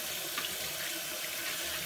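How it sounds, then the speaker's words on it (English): Hot water runs steadily from a tap while an apple is washed under it, a constant close splashing hiss with no talk. "So wash this off really good with hot water."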